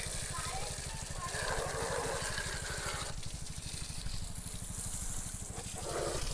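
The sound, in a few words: water spraying while washing a motorbike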